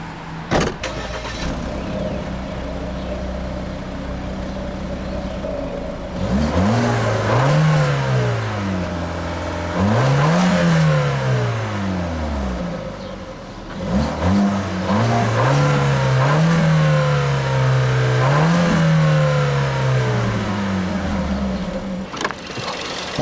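A 2013 Ford Escape SE's 1.6-litre turbo EcoBoost engine revs up several times, the exhaust rising and falling in repeated loud swells between stretches of idle.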